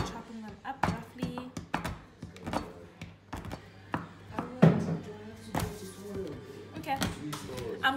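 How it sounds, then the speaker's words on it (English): Dark chocolate being roughly chopped with a knife for chocolate-chip peanut butter coconut cookies, a run of close, uneven dull thunks on a board that come in bursts with short pauses between them. "we'll be chopping up our dark chocolate"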